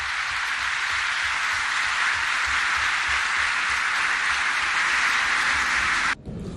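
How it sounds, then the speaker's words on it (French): A hall audience applauds steadily and loudly at a national dialogue assembly, a dense wash of clapping that carries on for about six seconds before stopping abruptly. "ce qui lui a valu l'applaudissement de la salle, fière de l'équipe du présidium"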